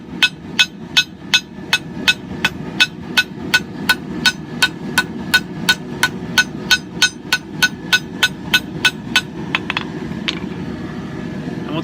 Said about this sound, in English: Next thing we got to do is hammer in the bevels, so hold it at an angle, strike at an angle,